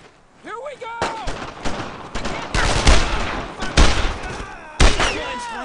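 Gunfire rings out in the WWII shooter Brothers in Arms: Road to Hill 30, with loud close bursts of rifle and machine-gun shots and booms, mixed with soldiers shouting.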